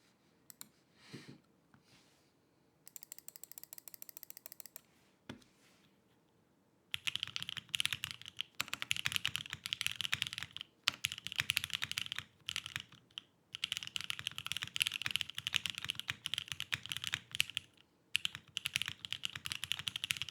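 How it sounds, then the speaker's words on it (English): Typing on a regular computer keyboard, close and fairly loud: a few isolated clicks and a short burst at first, then long runs of rapid keystrokes with brief pauses between them. "this is how loud my regular keyboard sounds like"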